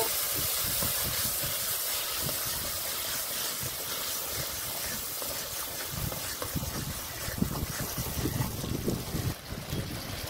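Strong outdoor wind roars and gusts across the microphone during cooking in the open, a continuous rushing hiss, with low buffeting thumps growing rougher toward the end.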